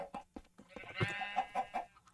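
Sheep bleat in a Minecraft skyblock game, a few short, soft wavering calls close together over quiet game sounds.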